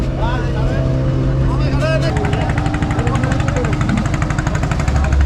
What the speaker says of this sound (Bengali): এখানে দেখতে পাচ্ছেন স্পিড বোট আমরা এই বোটে চলে যাব